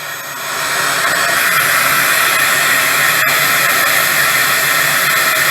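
A Holife cordless vacuum cleaner runs on high or turbo mode, giving a steady, loud broadband whoosh of airflow that starts up and holds constant throughout, with one brief dip near the end.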